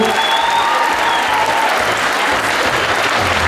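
Audience applause at a Rose Queen event in Karlovo, a steady dense wash of clapping held at an even level from start to finish, with no talk over it.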